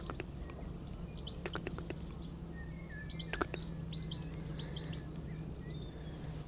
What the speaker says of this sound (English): I love the sound of a chattering goldfinch.